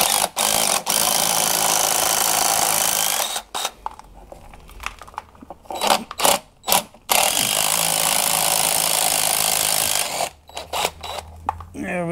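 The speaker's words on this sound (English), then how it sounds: "Pull these two bolts out." A power tool whirs loudly in long bursts while bolts are removed from a CFMOTO CForce 600 ATV engine during a teardown, broken by short clanks and rattles of parts between runs, with someone talking in between.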